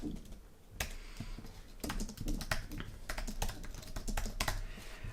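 Fast typing on a computer keyboard sounds in quick irregular bursts of close, faint key clicks, with no voices.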